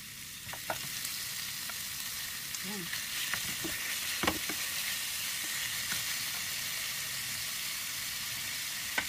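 Red onion sizzling as it fries in a pan for Bicol express, a steady hiss broken by scattered clicks and light stirring knocks.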